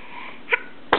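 A small child sneezes once at close range, a short sharp burst in a quiet room after a faint breathy lead-in.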